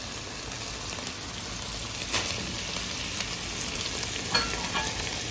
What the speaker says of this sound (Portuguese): vamos aqui colocar a cebola também para já ir refogando